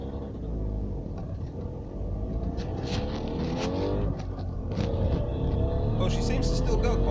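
A Trabant car with a rough-running engine pulls away, its low engine rumble and rising revs filling the scene steadily throughout, with faint voices mixed under the drone.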